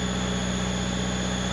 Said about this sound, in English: It's a bit weird standing outside your van when it's revving itself.